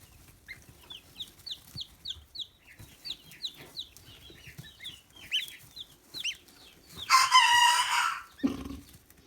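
Roosters crowing nearby on a farm, overlapping with a run of short chirps and clucks before a louder, drawn-out crow, with no voices.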